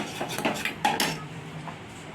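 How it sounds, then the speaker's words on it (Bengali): A utensil stirs semolina frying in a pan over medium heat, with a few scraping clinks against the metal early on and then a quieter, steady scrape. "সুজিটা দিয়ে হালকা নেড়ে করে একটু ভেজে নিচ্ছি।"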